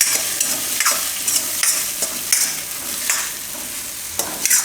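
Ridge gourd stirring and frying in hot oil in a Gujarati home kitchen, a steady close sizzle with repeated scraping strokes of the spoon every second or so, no voices.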